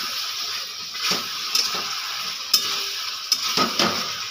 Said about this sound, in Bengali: আমি বাটা মশলা দিয়ে আমি 2 মিনিট নেড়ে ছেড়ে নেব।